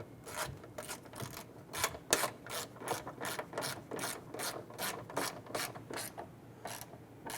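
A ratchet snugs the taillight nuts on a Toyota Camry, a close, rapid run of sharp clicking pawl strokes in quick, fairly even rhythm, quiet overall with no talk.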